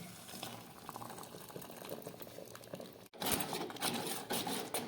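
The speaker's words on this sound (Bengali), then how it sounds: "এবার আমি এই চিনির মিশ্রিত দুধটা এর মধ্যে দিয়ে দিচ্ছি।" Sugared milk pours into pot of boiled Gobindobhog rice for payesh, a steady liquid rush that grows louder and brighter partway through after a brief break, with no talking.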